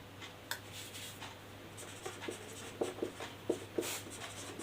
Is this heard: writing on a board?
yes